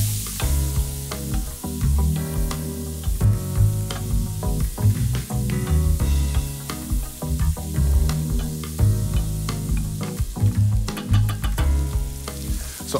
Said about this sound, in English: This just needs to cook until the pears have broken down and become soft